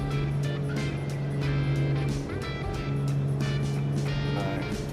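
Aircraft engines of a Black Square Grand Duke twin in a flight simulator make a steady droning hum with a low tonal whine, broken by periodic rattles and thumps from the shaking cabin.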